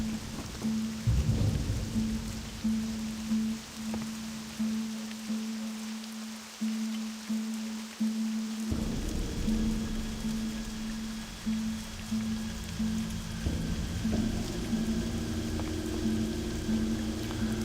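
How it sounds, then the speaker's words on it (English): Steady rain pours throughout with rumbling thunder, a dense hiss of falling water that swells and shifts, loud and close, with no voices. Rain in the video game World of Warcraft. "I hear the rain sounds, but I don't see the rain."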